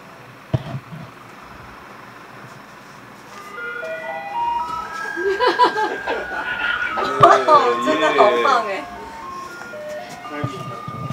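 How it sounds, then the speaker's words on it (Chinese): A garbage truck passes along a lane outside a small bookstore, its melodic jingle fading in from quiet and swelling louder as it nears, while people chat and laugh softly nearby. "垃圾车一直来。"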